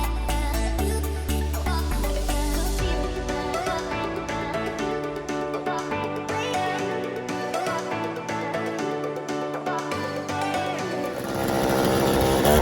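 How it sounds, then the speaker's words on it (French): A chainsaw runs steadily, its engine droning loud and close with slight shifts in pitch as the throttle changes. "Quand on sort la tronçonneuse, c'est que c'est bon signe."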